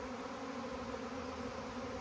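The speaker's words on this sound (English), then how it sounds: "many bees, and they're flying around" A swarm of bees flies around a hive, a dense, steady buzzing drone that is continuous and fairly close.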